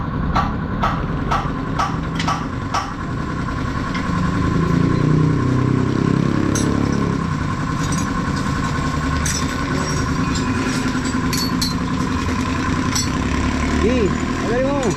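A Raider 150 motorcycle engine with a noisy, low-power fault idles loudly and steadily after a few sharp clicks at the start, with voices talking nearby.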